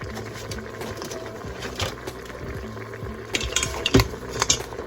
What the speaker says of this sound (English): So you want to start putting your crab inside the pot.